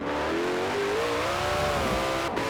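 A powerful car in a snowy racing video game revs hard and accelerates, wheels spinning for grip, its engine note rising steadily and loud throughout, heard alone without talk.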